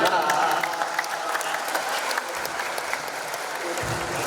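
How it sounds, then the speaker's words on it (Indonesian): Sustained crowd applause at a regional government and election commission event, a dense even roar of clapping that holds steady throughout with a slight dip midway. "tepuk tangan dari Pak Menjual."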